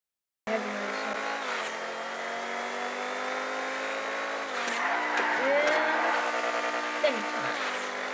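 Stock car race in GTA 5 on PC, with a Bravo Buffalo car's engine droning steadily at close range, rising as it revs and accelerating with tire squeals and skids along the way.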